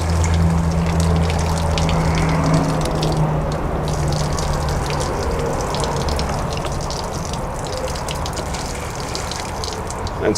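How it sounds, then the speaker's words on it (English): Pink antifreeze gushes steadily from the outside shower of a Coachmen Catalina travel trailer being winterized, a loud, continuous close-up flow with no talking. "Next thing we're going to hit is the outside shower."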